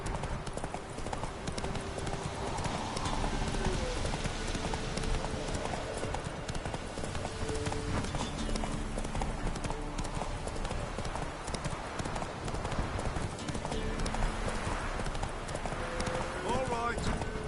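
Hooves of the horse Roach pound in a rapid galloping rhythm in The Witcher 3 video game, steady and fairly close, with game voices and background music layered over the clip-clop.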